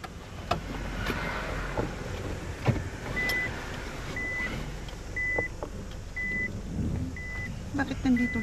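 A vehicle pulls up outdoors with its reversing alarm sounding a steady series of evenly spaced beeps, moderately distant under wind noise and scattered knocks, with voices talking nearby.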